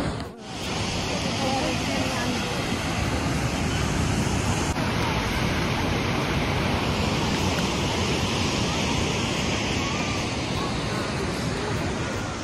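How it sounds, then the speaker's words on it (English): Rough ocean waves break on a Hawaii beach in a continuous loud wash of surf, with wind noise buffeting the microphone throughout. "The waves are a little rough, but it was pretty fun."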